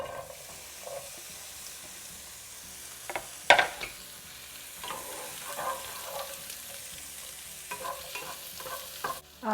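Chopped onions sizzle in a few tablespoons of sunflower, rapeseed or vegetable oil, close and steady, with stirring scrapes and one sharp clatter partway through, no voices.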